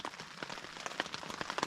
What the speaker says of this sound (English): It has been raining for 3 hours straight.